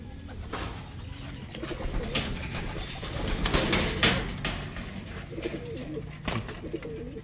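A young pigeon hatched alone coos repeatedly inside its cage, soft low murmuring calls with occasional chirps over steady background noise.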